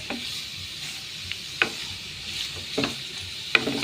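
Carrots and French beans fry and get stirred in a pan for a Goan prawn chow chow, a steady soft sizzle broken by a few sharp scraping clicks of the spoon, close and with no talking.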